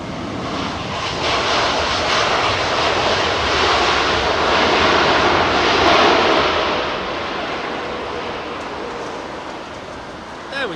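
An Aer Lingus airliner lands on runway 27R at London Heathrow, its engine roar swelling loud and broad as it passes close overhead, then easing off as it moves away.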